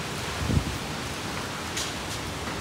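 Heavy hailstorm pounding a Punjabi village during the wheat season, a dense, steady rattling patter that stays fairly faint and even throughout, with no voices.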